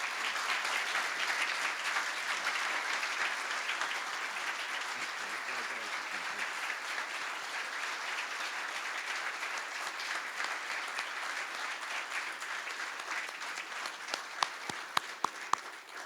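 Sustained applause from the audience at the Orlando Magic Hall of Fame induction ceremony, a dense, even roar of clapping throughout, with a few sharper individual claps standing out near the end.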